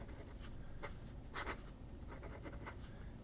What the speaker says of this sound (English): I got to use my pad. There we go, so I can write properly.